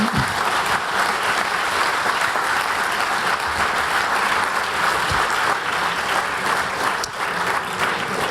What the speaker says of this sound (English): anybody ready to give some applause to Johannes Aleš and Animedes?